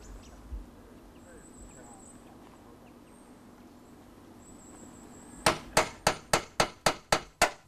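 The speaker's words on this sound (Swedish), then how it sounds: "Vi ska slå och slå några hål till" Sharp hammer blows drive a nail to punch holes, about eight strikes in a steady, evenly spaced rhythm, close and loud after a stretch of quiet room hum and faint background noise.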